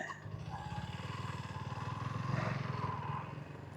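A motorbike engine runs steadily on a mountain road trip toward Lawari Top, a faint, even pulsing putter that swells slightly midway without sharp revving.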